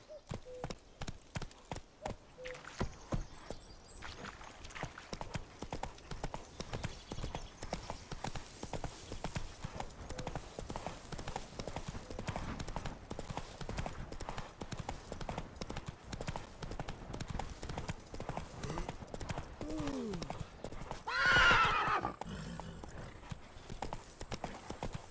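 Hooves of the horse in The Witcher 3 video game clatter in a fast, steady galloping rhythm throughout, with a brief whinny near the end and occasional game sounds mixed in.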